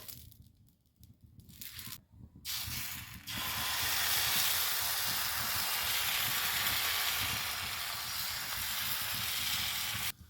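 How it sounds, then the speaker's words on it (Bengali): Oil hisses on a hot tawa as it is spread with a cut eggplant for making patisapta pitha. A few rustles and scrapes come first, then a loud, steady sizzle runs through the rest. "তো বন্ধুরা তাওয়া আমার গরম হয়ে গেছে, এখন আমি তাওয়াতে তেল দেব।"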